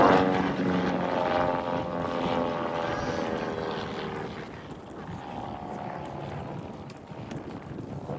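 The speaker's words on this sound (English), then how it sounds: "Pulling the stick back, going all the way round the loop" A propeller display aircraft flies an aerobatic loop at an air and country show, its engine note loud at first and then fading as it swings away.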